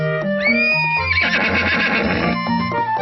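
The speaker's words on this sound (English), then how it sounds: "Oh, beautiful horse." A horse whinnies loudly in a long, wavering neigh that rises then trembles down, with a few short snorts around it.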